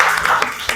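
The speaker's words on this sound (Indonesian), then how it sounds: "tepuk tangan untuk Indah" Short burst of classroom applause for a student, many hands clapping close by in a quick, even patter that lasts under a second.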